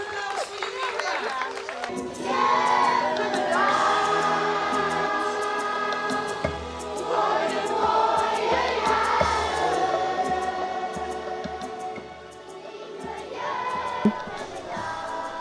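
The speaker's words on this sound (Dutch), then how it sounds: "ook een heel groot applaus voor juf Irma" A school gathering applauds retiring teacher Irma, with a crowd clapping steadily under music and voices, the clapping rising and fading in waves for several seconds.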